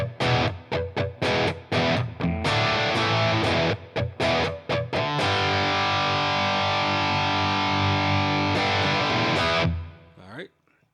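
An electric guitar played through a Helix Revv Gen Purple patch with reverb gives distorted, loud chords, first in short choppy stabs and then a long sustained ring that decays into a reverb tail.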